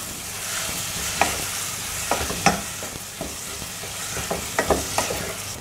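Spice mixture with turmeric and yogurt stirred in a pan for tawa rice, a steady soft sizzle with scraping spoon strokes and sharper clacks against the pan at irregular intervals.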